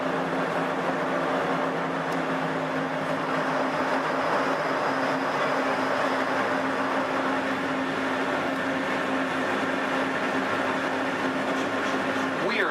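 Disneyland Railroad ride train pulling into Downtown Disney Station, a steady close rumble and rolling hum of the train cars running continuously throughout.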